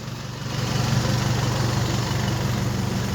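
A tractor engine runs steadily with a low, throbbing rumble that grows slightly louder after the first half second, with no voices.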